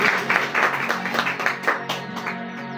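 Congregation applause at a Faraday prayer meeting: a sustained run of dense clapping from many hands, moderately loud and steady for a few seconds, with faint tonal background beneath.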